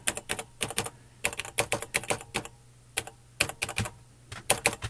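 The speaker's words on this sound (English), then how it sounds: "And this keyboard seems nice." Fingers type in quick bursts on the keyboard of a TRS-80/Tandy Model 100 laptop, close crisp key clicks in irregular clusters separated by short pauses.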